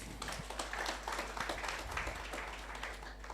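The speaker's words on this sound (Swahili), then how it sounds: "Situjipigie makofi." An audience at a savings and credit co-operative society's annual general meeting claps politely in a hall, a faint, even patter of many hands lasting a few seconds.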